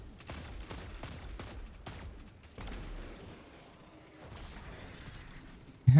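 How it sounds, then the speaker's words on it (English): A hand cannon fires repeatedly in the video game Destiny 2, a string of punchy shots in fairly quick succession followed by a quieter stretch and a sudden loud burst at the end. "Try his hand cannon out, see what this does."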